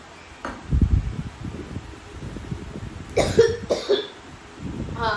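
A few harsh coughs close by, a low burst early on and a couple of sharper hacks later, with a quiet rustling background.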